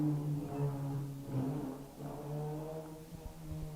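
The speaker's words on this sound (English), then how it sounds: "that's somebody on some Japanese motorcycle out there making noise" A Japanese motorcycle outside gives a faint, distant, droning engine hum. It holds steady with a slight swell in the middle, and no one talks over it.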